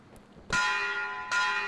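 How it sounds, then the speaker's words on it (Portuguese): Two loud, resonant strikes of a bell in the video game Metro Exodus, each ringing on with a long metallic decay, the second following less than a second after the first. "Tocar o sino"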